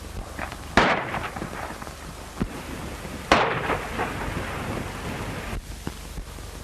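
A western shootout, with two sharp gunshot cracks that ring and decay and a few fainter shots between them, over steady wind-like background noise.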